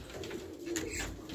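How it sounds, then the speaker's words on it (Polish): Wild pigeons coo softly in short, low, throaty calls, faint and nearby against a light outdoor background hum. "Tutaj są dzikie gołębie."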